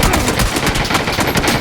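Gunfire in the video game PUBG, a loud, rapid automatic burst of evenly spaced shots continuing through the whole stretch.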